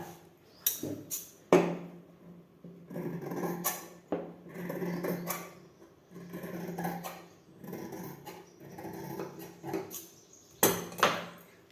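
Blouse fabric is cut with scissors, giving intermittent close, soft crunching snips and sliding scrapes in short bursts, with a few sharper knocks between them.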